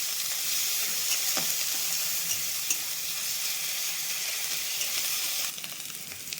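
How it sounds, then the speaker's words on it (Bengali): Onion paste and ginger garlic paste sizzling loudly in a hot pan, a dense continuous frying hiss with faint stirring scrapes, easing a little near the end, no voices. "এবার এই পেঁয়াজ বাটাটা দিয়ে দিচ্ছি। আর আদা রসুন বাটা এটাও দিয়ে দিচ্ছি।"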